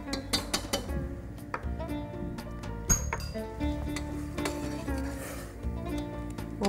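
A spoon clinks and scrapes against a cooking pot while salt, pepper and other harira soup ingredients are stirred together, giving close, irregular metallic taps over a steady background.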